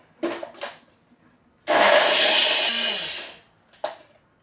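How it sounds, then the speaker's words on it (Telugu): A kitchen mixer grinder whirs loudly for about two seconds as it grinds dried flowers into a fine powder, then stops, with brief clatter of handling before and after. "సో ఇవన్నీ ఒక మిక్సీ దాంట్లో వేసేసుకుని దాన్ని మనం మెత్తగా పౌడర్ కింద చేసుకోవాలి."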